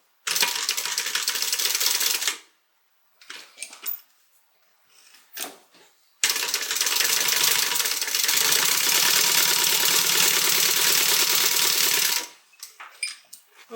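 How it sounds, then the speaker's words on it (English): A sewing machine stitches a crossbody bag in two long runs of rapid mechanical whirring, separated by a pause filled with brief handling clicks and short starts, close and alone. "and we're going to stitch"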